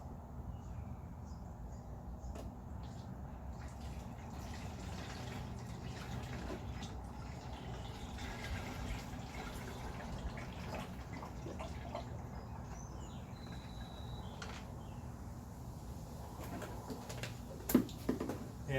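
Transmission fluid drains from a Ford F250 in a steady stream into a plastic jug, a continuous close trickle and splash that runs unbroken at moderate level and ends with a few brief knocks.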